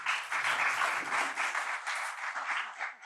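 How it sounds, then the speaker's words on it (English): Audience applause after a speaker introduction at a UK internet governance forum session, a steady dense clapping from a sizeable crowd filling about three seconds without a break. "Please give them a warm round of applause."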